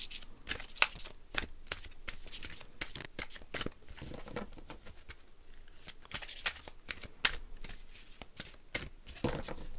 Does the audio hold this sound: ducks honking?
no